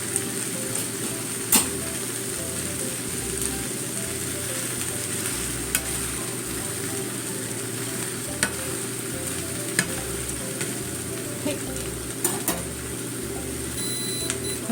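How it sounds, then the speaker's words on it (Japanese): A cabbage pancake steam-frying under a lid in a covered pan gives a steady, soft sizzle and hiss that holds at an even level throughout, with a few faint clicks and no talk. "蓋をしてちょっと蒸し焼きにしますね。"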